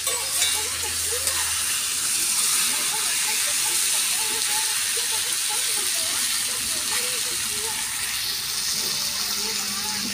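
Chicken pieces hit a hot wok already holding oil, cumin and fried onion, giving a loud, steady hiss and sizzle close up that runs throughout, with a voice speaking over it.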